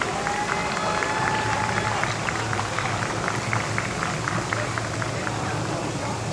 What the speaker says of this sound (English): Please give a round of applause for each and every one of you